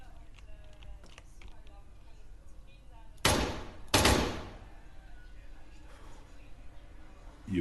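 Gunfire in the military shooter ARMA III: two loud, sharp shots about a second apart, standing out over faint background noise and game ambience.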